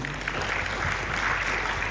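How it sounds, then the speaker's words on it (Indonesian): Applause from a school audience honoring teachers at an Islamic junior high student council inauguration in Makassar, a steady dense wash of clapping lasting throughout. "Tepuk tangan dulu untuk guru-guru"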